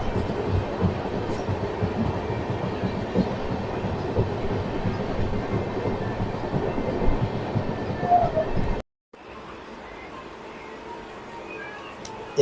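A passenger train pulls out of Nandal Dahegam railway station with a steady rumbling roll and faint clatter, heard from on board, then a brief dropout before the quieter running resumes.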